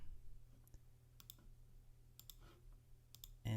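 Computer mouse clicks on a website login page, a few sharp, faint clicks spaced apart over a low steady hum, with no talk.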